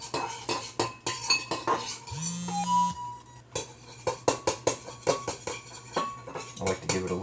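A spoon stirs activated yeast for mead in a container, giving a run of repeated clinks and scrapes against the vessel, near and fairly loud, with no talk.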